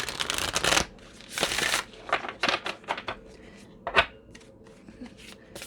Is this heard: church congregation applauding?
no